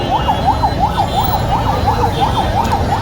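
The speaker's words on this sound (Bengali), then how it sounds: "ওই যে একটা ফায়ার সার্ভিসের গাড়ি দেখুন" A fire engine siren wails in a fast, repeating up-and-down pattern, loud and close, over rumbling traffic on a Dhaka street during a road blockade.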